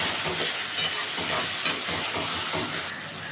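Onions browned in hot oil sizzle and hiss steadily as ginger, garlic and green chili paste goes in for a Gondhoraj chicken, with stirring scrapes breaking through the close, continuous frying.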